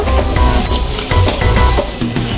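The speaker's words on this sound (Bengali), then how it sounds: "এইভাবে সব ডালগুলো আমি ভেজে নেব।" Lentils fry in refined oil in a wok for a crunchy dal bhaja snack, giving a steady, dense sizzle with close crackling that stays loud and even throughout, with no voices.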